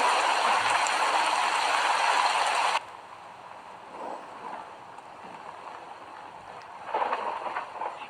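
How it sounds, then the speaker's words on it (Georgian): Steady rain in an animated series falls as a loud, dense hiss for the first few seconds, then drops abruptly to a softer, quieter patter that swells again briefly near the end. "ისევ წვიმს, ისევ ქუხს"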